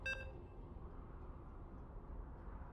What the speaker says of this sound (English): You can hear the beeps.